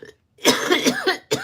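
A person coughs in a short burst of several harsh, close coughs after a brief silence, loud and dry with no speech around it.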